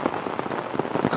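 Heavy rain falls steadily in a village, a dense close hiss of drops pattering on surfaces with no pauses.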